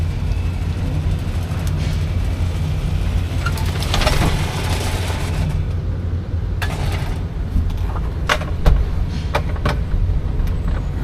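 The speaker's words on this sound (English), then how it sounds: "Let me go ahead and put the top up. Top is going up" A 1973 Chevrolet Caprice convertible top rising on its power mechanism, a steady motor whir with scattered clicks and clunks from the frame, heard close by over a low continuous hum.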